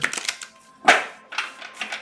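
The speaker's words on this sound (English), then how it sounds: "let's do a shuffle for the collective" Tarot cards being shuffled by hand, a run of quick papery riffles and taps with a louder slap near the middle, close and dry with no talk.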